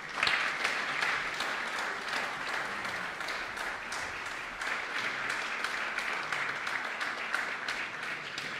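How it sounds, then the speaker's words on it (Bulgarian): Concert hall audience applauds at a clarinet competition laureates concert, a steady wash of many hands clapping that stays even and sustained throughout, with no voices over it. "Аплодисменти."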